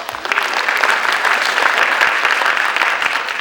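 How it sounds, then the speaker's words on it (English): Loud, sustained applause from a large audience, dense clapping holding steady throughout with no talking over it. "Give yourselves a round of applause."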